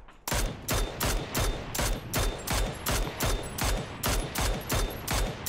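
Rapid bursts of gunfire in PUBG crack out in a steady rhythm, about a dozen sharp shots evenly spaced, loud and close with a punchy low thump.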